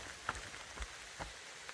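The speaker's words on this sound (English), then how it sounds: "And it looks like it's going to be raining off and on all day." Rain falls on a forest campsite along the Appalachian Trail near East Chairback Pond in Maine after a sudden cold change, a faint, steady patter with a few soft scattered drops.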